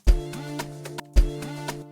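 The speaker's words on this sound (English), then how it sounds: "It's basically the lead sound, the Mode Shaper MW." The Diva synth's Mode Shaper MW lead patch plays two bright, plucky phrases in an Afrobeat piano beat, each opening on a punchy low thump and ringing out with sliding tonal notes before falling silent.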